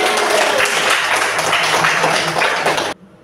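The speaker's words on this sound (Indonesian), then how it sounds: "Kita kasih tepuk" Loud classroom applause for the top three quiz students in a chemistry lesson, brisk continuous clapping from many children that cuts off abruptly near the end into near silence.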